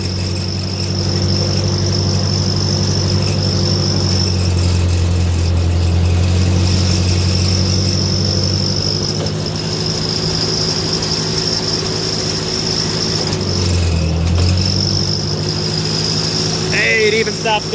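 A Ford NAA tractor engine runs steadily while being driven, a loud continuous drone with a brief dip and surge partway through, under the noise of movement.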